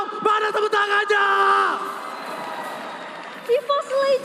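Spectators at an EVOS versus RRQ esports match roar and cheer in a broad, swelling wash of crowd noise, while a commentator shouts excitedly over them in loud, sustained bursts.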